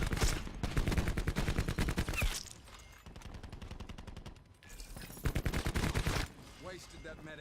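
Rapid bursts of gunfire in Black Ops 4 ring out loud and close in two long strings, with a short lull between them and a few scattered shots after.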